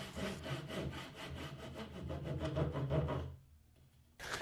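A handsaw cuts tenon haunches in wood, a quick run of close, rhythmic rasping strokes that stop briefly before one more stroke begins.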